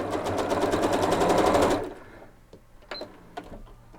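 A sewing machine chain-pieces quilt half-square triangles, whirring in a fast steady stitching run for under two seconds, then stopping, followed by faint handling clicks and rustles of fabric.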